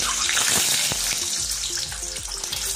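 Halved boiled eggs fry in hot white oil in a wok, giving a loud, close, continuous sizzle with crackling pops and occasional clinks.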